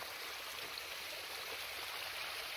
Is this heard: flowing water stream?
yes